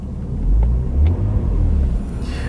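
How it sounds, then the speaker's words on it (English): A convertible car's engine idles smoothly and evenly, a steady low rumble close by with slight swells, and no voices. "It sounds sweet though, doesn't it? I mean, it's idling nicely, it's not lumpy."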